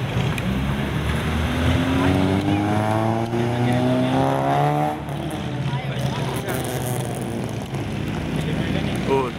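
A Honda Civic MK5 hatchback Uber car pulls away at a Sunday car meet, its engine note rising and shifting in clear harmonic sweeps, with people talking over the motor.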